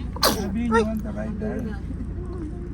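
One sharp, close sneeze bursts out near the start at Universal Studios Osaka theme park, then people keep talking casually over a steady background hum.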